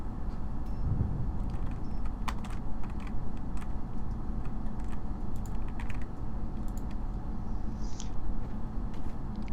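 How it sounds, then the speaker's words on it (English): Rapid, frantic tapping on a computer keyboard clatters steadily throughout, close and continuous, over a low background hum. "I can hear the tapping of keys in a fanatical manner."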